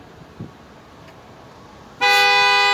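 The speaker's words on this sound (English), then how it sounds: "Sound the horns." A loud, sustained car horn blares suddenly after a stretch of faint background noise and holds steady to the end.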